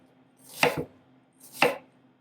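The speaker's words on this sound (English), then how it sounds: "Then what I do is I take my onion and I do slices like this." Knife slicing through an onion on a cutting board, two distinct crisp chops about a second apart, close and clear with no talk.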